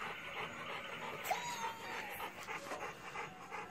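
A dog pants in quick, rhythmic breaths at close range, fairly faint, amid soft indoor background noise with no talking.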